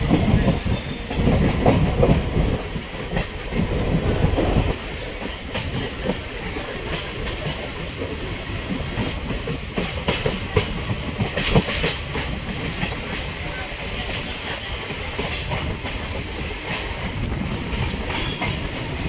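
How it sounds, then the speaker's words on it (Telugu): The 17239 Simhadri Express rolls along the rails with a continuous rumble and a rapid clickety-clack of wheels as it gathers speed, heard loud and close from on board, with a faint hiss throughout. "మన ట్రైన్ అయితే రేసింగ్ అందుకుంటుంది ఇక్కడి నుంచి"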